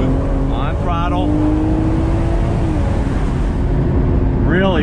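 2020 BMW Z4 M40i engine pulling on throttle through a bend, a sustained loud engine drone with steady rising tones heard from the cabin, and someone talking over it in brief bursts.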